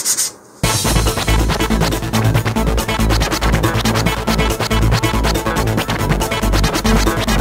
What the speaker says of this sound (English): the first thing I'm going to do is sand the faces with some 150 grit sandpaper here